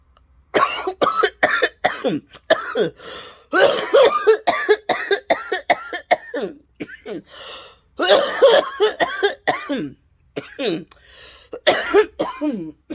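A person coughs repeatedly in close, rapid bursts, with short gaps and some throat clearing, in a casual indoor setting.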